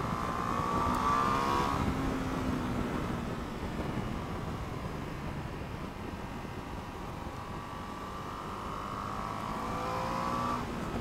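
A Ducati Multistrada V2S motorcycle engine growls steadily as it pulls under acceleration, a continuous low rumble with rising whine at the start and end.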